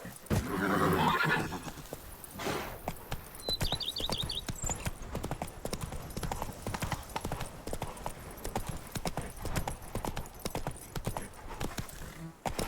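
Roach, the horse in The Witcher 3 video game, whinnies loudly up front, then her hooves clip-clop in a steady trot that runs on through the rest of the moment amid other game sounds.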